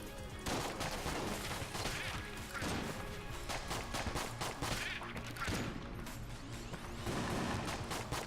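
Bullets firing everywhere in the Enter the Gungeon video game, dense rapid gunfire with clattering impacts and mechanical clicks, loud and continuous, with game music underneath.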